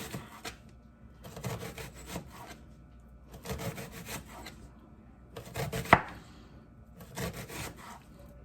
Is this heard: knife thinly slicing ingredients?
yes